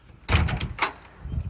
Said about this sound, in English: Okay, going through the front door.